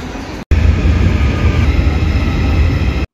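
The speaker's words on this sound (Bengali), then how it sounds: "এটা মেট্রো স্টেশনের ভেতরে অ্যানাউন্স হয়ে গেছে আমাদের মেট্রো আসছে" Metro train arriving at a station in Korea, a loud, close, continuous rushing rumble that holds steady for about three seconds after a brief cut.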